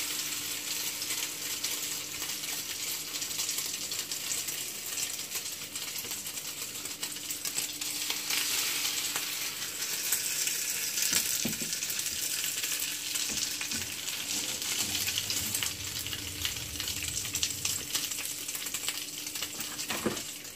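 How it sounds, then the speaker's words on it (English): Ham and cheese French toast frying in a pan, a steady close sizzle running throughout with occasional small clinks, no talking. "You need to fry it."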